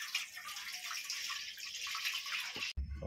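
Fresh water for boiling cauliflower is poured into a cooking pot in a kitchen, making a steady close rush of flowing water that stops abruptly near the end.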